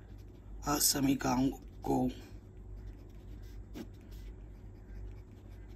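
A pen scratches faintly across paper as math inequalities are handwritten in a Class 12 lesson. Someone speaks briefly first, then soft, quiet writing strokes follow over low room hiss.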